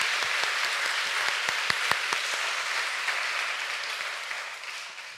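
A church congregation applauds in a sustained wash of clapping, with a few louder individual claps standing out early, the sound slowly thinning toward the end.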